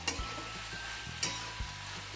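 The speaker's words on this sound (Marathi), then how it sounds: "आता चवीपुरतं मीठ, ते चांगलं हलवून घ्यायचं" Tomato sabji gets stirred in a pan over a soft continuous sizzle, with a few distinct spoon scrapes and knocks against the pan at irregular intervals; no voices.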